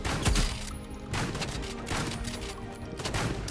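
Rapid gunfire from a shotgun in a shooter video game. Several sharp blasts crack in quick succession over busy game background noise, fairly loud and close, with no talking.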